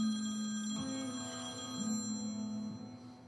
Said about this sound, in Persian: داداش تلفنش داره زنگ میخوره